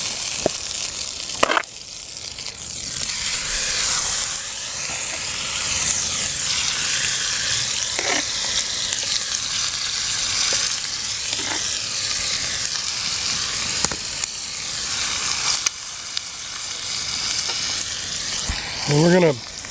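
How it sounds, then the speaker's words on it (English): Chicken thighs seasoned with Creole spice and black pepper searing in olive oil in a skillet for gumbo, a loud continuous sizzle and hiss up close, broken by occasional utensil clinks and scrapes. "we're gonna cook those in that skillet for a few minutes"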